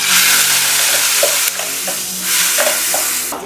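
Red karam chutney fries and sizzles in oil in a pan, a steady bright crackle that fills the clip, with a few soft stirring scrapes and a brief dip in intensity partway through.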